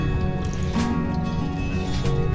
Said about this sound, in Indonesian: Ini mau aku gunakan untuk menyiram tanaman aku di sini.